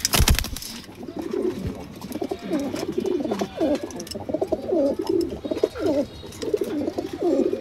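Racing pigeons coo in repeated low, throaty phrases, close and steady, with faint rustling at the start.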